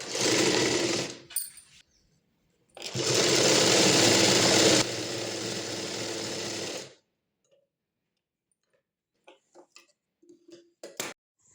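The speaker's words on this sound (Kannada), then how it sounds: "ಜಾಯಿಂಟ್ ಮಾಡಿಬಿಟ್ಟು ದಾರ ಸ್ಟಿಚ್ ಮಾಡ್ತೀನಿ ಈಗ" A sewing machine stitches thread into a pair of Patiala pants in two loud motor-driven bursts, a short run followed by a longer steady one. Quiet clicks and small handling sounds come afterward.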